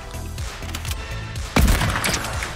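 Shotgun fire in the video game Fortnite, with repeated gunshot bursts through a busy game mix and one loud, close blast near the end.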